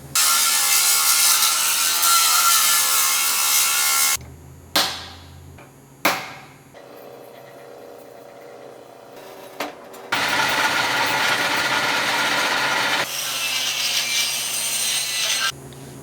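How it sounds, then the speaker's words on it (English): A die grinder cuts into metal to widen a drilled hole and clean up an edge on a John Deere 40 combine track build, a loud sustained grinding whine in long bursts separated by brief clanks and quieter pauses. "just die grinded that hole out, kind of cleaned up this edge a little bit"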